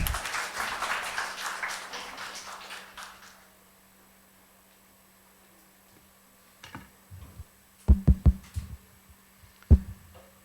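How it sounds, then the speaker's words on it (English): Audience applause at a nature-writing session of the Bhopal Literature & Art Festival 2025 fills the room for about three seconds, then fades to near silence with a few scattered knocks. "Can we start the session with a huge round of applause for them?"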